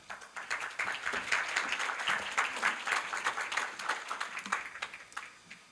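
An audience at a university business school event claps warmly to welcome a startup CEO to the stage, dense rhythmic applause that swells and slowly tapers off.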